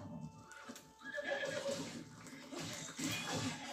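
A horse whinnies loudly, then hooves clatter in a quick galloping rhythm, with a second whinny over the hoofbeats; no speech.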